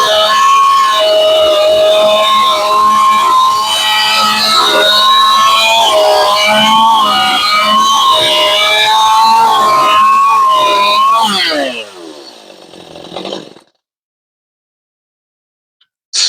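A choked chainsaw engine runs loud and close with a steady, wavering whine that rises and falls slightly, then winds down and falls silent after about thirteen seconds.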